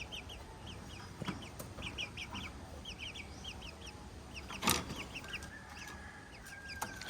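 Silkie chicken clucking in short, repeated bursts, with other fowl chirping around it and one louder burst midway.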